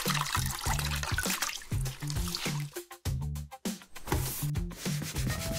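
A wet cloth rubs and scrubs marker off a board, giving repeated close rhythmic swishes with watery dribbles in between and no speech.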